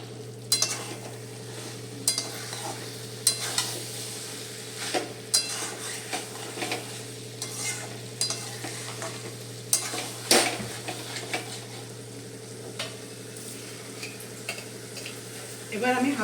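Data (vegetable stalk) curry sizzles steadily in a pan over medium heat while a spoon stirs and scrapes, with frequent metallic clinks and taps against the pan, close up throughout.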